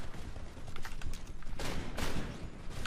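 Gunfire in the shooter game Titanfall crackles in rapid, dense bursts with a few sharper loud cracks, filling the short stretch without a break.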